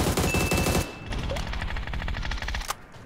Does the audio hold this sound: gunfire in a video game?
yes